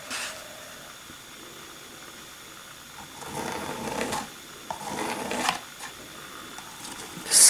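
Palette knife dragged through acrylic paint, faint intermittent scraping strokes in short bursts against a quiet background.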